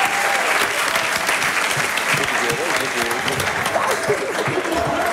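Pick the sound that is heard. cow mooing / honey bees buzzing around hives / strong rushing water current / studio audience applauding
studio audience applauding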